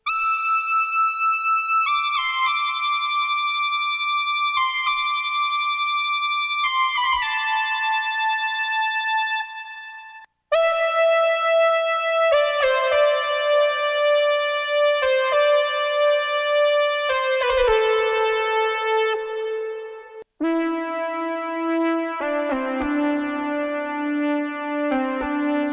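A bright synth lead plays a slow melody three times, each pass an octave lower, with brief gaps between the phrases.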